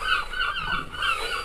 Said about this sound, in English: a gaggle of seagulls have just turned up